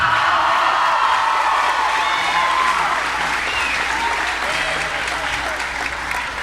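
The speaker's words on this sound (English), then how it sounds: "The crowd chanting MVP for Vicente Perez" Loud basketball crowd at a CIF Division V SoCal final between Rolling Hills Prep and Notre Dame, steady roar of applause and cheering with voices blending into a chant for a senior player, sustained throughout and tapering slightly at the end.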